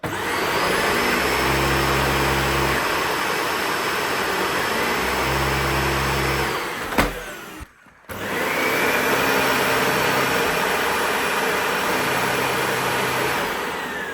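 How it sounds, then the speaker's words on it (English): A Dyson DC55 Total Clean vacuum cleaner runs loud and steady, cuts out briefly, then its brush bar motor spins back up gradually to a sustained whine; no one speaks. "a different sort of startup with a brush bar motor"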